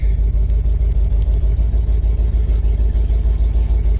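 Truck with a transmission fluid leak being driven, producing a steady, loud low engine rumble with rapid even pulsing, close and continuous without pause.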